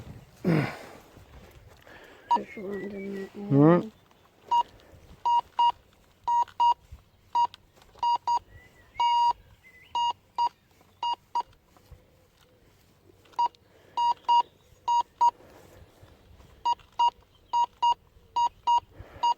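A Nokta Makro Go Find metal detector sounds a series of short, high electronic beeps in quick pairs and clusters, clear and close, over a quiet outdoor background with brief rustling at the start.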